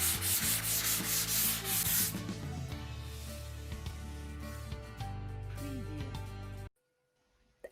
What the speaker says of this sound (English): Now that the Gyproc Easy Filler is dry, it just requires a light sand.